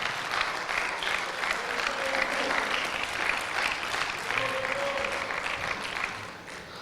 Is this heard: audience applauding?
yes